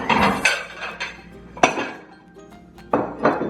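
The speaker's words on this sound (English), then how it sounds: "now I'm gonna grab the 2 plates" Plates are picked up and handled, with several sharp ceramic clinks and knocks spread irregularly, some louder and close, plus faint clatter in between.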